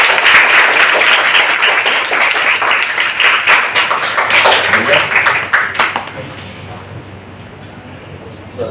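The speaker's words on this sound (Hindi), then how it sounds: "बच्चे ताली बजाएंगे।" Children applauding at a school shooting championship, a dense steady burst of many hands clapping for about six seconds before fading into quieter room noise with background voices.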